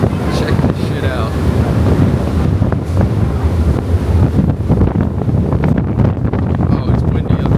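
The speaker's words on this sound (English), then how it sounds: "Oh, it's windy up here." Strong wind buffets the microphone on the top deck of a boat at sea, a loud, rough, continuous roar with faint wave wash beneath and a voice briefly audible.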